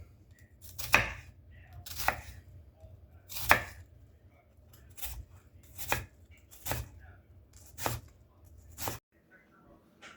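Knife chopping an onion on a cutting board for chili, about ten crisp, evenly spaced cuts close up against a quiet background.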